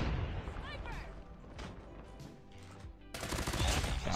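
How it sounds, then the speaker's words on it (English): AK-47 fire in the mobile shooter Call of Duty Mobile: rapid cracking shots and clattering bursts, fairly faint, with a denser, louder volley near the end and game sounds around it. "The AK-47 sounds annoying"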